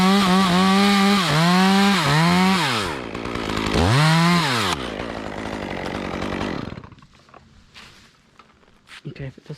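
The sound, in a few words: chainsaw cutting a hollow poplar tree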